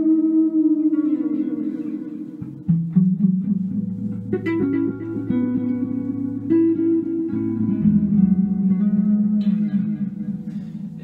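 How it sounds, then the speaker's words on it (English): Electric guitar played through a vintage Evans EV-80 tape echo machine, a Bacchus Telecaster sounding sustained chords and notes with repeating, swirling echoes that trail on and thicken the tone, loud and continuous without talk. "so now we'll throw on the echo"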